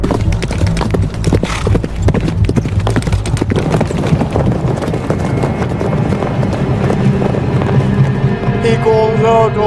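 A horse galloping with hooves clip-clopping in a quick, steady rhythm, loud and close throughout, with a faint whinny near the end.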